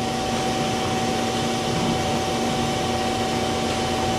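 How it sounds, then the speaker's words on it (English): A vacuum cleaner runs continuously in a workshop, a loud, steady whooshing roar with a constant motor whine and no pauses or voices. "even just using the vacuum cleaner,"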